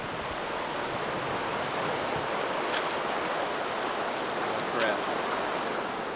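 Mission Creek rushes along on a Pacific Crest Trail hike, a loud, constant broadband roar of flowing water heard up close, unbroken for several seconds apart from a couple of faint clicks.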